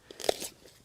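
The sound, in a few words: biting into raw crunchy yacon root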